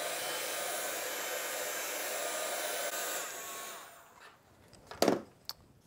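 A hair dryer runs steadily and loudly for about four seconds drying painted copy paper, then cuts off, followed by a few short clicks and handling noises.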